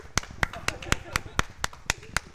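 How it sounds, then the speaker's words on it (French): Applause from a small audience after a Super Smash Bros. tournament grand final in Toulon, with about ten sharp, evenly spaced claps ringing out distinctly and fairly near. "On peut encore applaudir à tout le monde."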